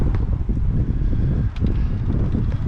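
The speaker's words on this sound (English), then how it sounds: "the wind's howling pretty good" Steady, blustery wind rumbles and buffets close by, a low continuous roar with gusty swells and no other sounds standing out.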